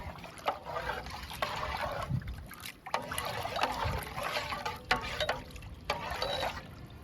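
Fermented rice water is poured and stirred together with a coffee-powder liquid as a plant feed, giving a faint, continuous trickling and sloshing with small splashes.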